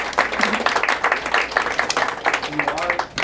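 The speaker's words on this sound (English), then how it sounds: "why don't we just give her a round of applause" Audience applause for a speaker at a gardening talk, a steady spread of hand claps lasting a few seconds at moderate distance, with faint voices mixed in.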